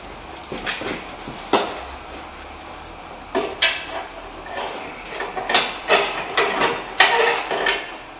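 Transmission fluid pours and splashes from a 2008 Dodge Caravan as the front axle is pried out, with close metallic clinks and knocks over a steady trickling wash, no voices.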